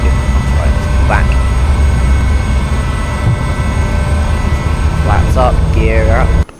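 Gloster Meteor jet engine in a flight simulator game, a steady loud roar held throughout, with a voice talking over it at intervals.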